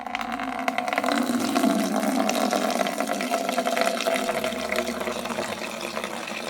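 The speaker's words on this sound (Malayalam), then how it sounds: "ഇതിനൊരു ടവൽ കെട്ടിയിട്ടാണ് പൈപ്പിൽ നിന്ന് വെള്ളം എടുക്കുന്നത്" Water runs steadily from a pipe with a towel tied over it, a continuous close hiss with a steady tonal hum underneath, unbroken for several seconds.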